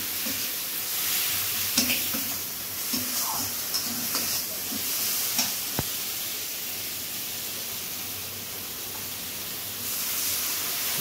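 Cumin and coriander powder masala frying in a pan for a soybean muitha, stirred steadily: a continuous close sizzle broken by scattered scraping strokes.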